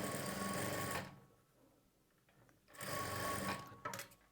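Sewing machine stitching a folded border along a blouse neckline, running in two loud bursts of steady motor whir separated by a quiet pause.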